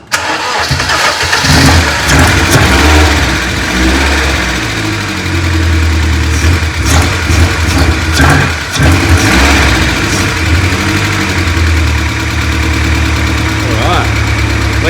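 A 1990 BMW E30 325is engine cranks and fires, then runs roughly at a loud, steady idle with uneven knocks and surges over the full stretch, while a voice speaks briefly.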